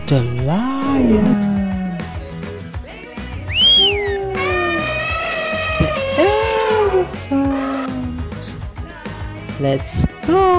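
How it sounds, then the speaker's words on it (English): A lion roar sound effect in a children's animal painting and crossing video game, mixed with bright tonal game music and jingles that run throughout the clip. "The lion."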